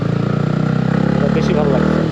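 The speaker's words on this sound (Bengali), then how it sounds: "ইঞ্জিন ব্রেকে যে সাউন্ডটা হয় বুম করে" A modified Yamaha R15 V3 sport motorcycle engine drones loudly and close, with a rapid, even pulsing note and a brief booming rise during engine braking.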